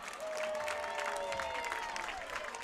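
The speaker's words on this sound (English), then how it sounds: "Give it up for both teams one more time." Crowd at a youth football championship game applauding both teams, sustained clapping and cheering with scattered whistles and shouts from many spectators, filling the space evenly.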